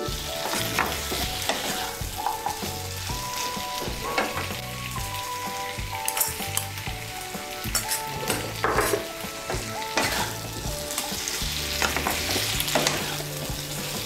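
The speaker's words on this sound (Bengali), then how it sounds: "সমস্ত সবজিটা ভালো করে আবার মিশিয়ে নিয়ে একটু ভেজে নেব" Pumpkin, potato and pointed gourd frying and being stirred in a pan, a steady close sizzle with repeated scraping stirs and occasional utensil clinks throughout, with no one talking.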